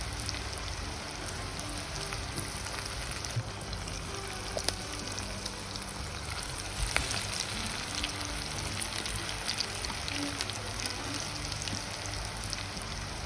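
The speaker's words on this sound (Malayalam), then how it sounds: "അതുപോലെ തന്നെ നമ്മൾ അരിഞ്ഞ് വെച്ചേക്കുന്ന എല്ലാ ഫിംഗർ ചിപ്സിനും നമ്മൾ ഇതുപോലെ എണ്ണയിലിട്ട് ഫ്രൈ ചെയ്തെടുക്കാം." Beetroot finger chips frying in hot oil, a dense, steady crackling sizzle with scattered sharper pops, close and continuous with no talking.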